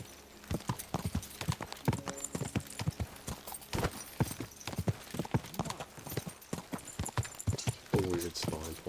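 Horse hooves clip-clop in steady rhythm in the medieval RPG Kingdom Come II, fairly close and loud, with a brief whinny and a voice speaking over the hoofbeats.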